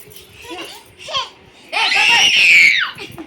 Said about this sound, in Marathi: बघा कशी आरडायला लागली